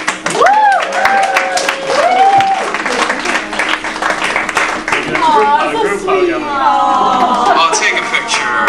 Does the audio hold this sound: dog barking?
no